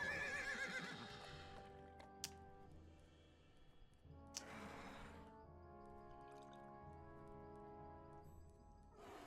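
A horse whinnies in the video game Vecna Unleashed, a loud tonal neigh at the start, followed by soft clip-clop hoof taps and sparse chiming notes against a quiet background.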